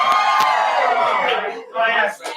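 A lively live audience at a Manor Lakes community event cheers and whoops loudly, a dense blend of many voices rising and falling, briefly dipping before swelling again.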